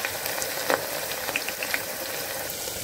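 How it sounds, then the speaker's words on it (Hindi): Chopped medium onion dropped into hot mustard oil in a pressure cooker, giving a steady, moderately loud frying hiss with scattered small crackles and pops throughout. "एक प्रेशर कुकर में हमने एक बड़ा चम्मच सरसों तेल गरम कर लिया है। अब उसमें एक मीडियम साइज का कटा हुआ प्याज डालेंगे।"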